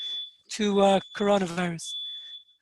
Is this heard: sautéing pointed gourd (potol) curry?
no